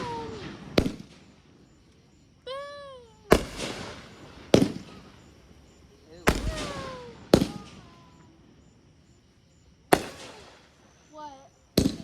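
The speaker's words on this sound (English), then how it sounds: "We bought a lot of fireworks." Backyard fireworks going off in a series of sharp, loud bangs spaced a second or two apart, some preceded by rising whistling launches, with people talking faintly between blasts.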